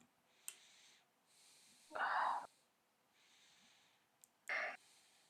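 Two sharp, explosive nasal bursts a couple of seconds apart, fairly close, over a quiet background with faint breathy sounds.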